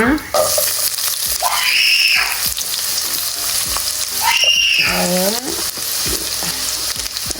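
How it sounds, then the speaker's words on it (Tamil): Chopped onions fry in sesame oil in a home kitchen pan, a steady loud sizzle running throughout with bursts of stirring and scraping, no voices. "நல்லெண்ணெயில் வெட்டி வச்ச வெங்காயம்"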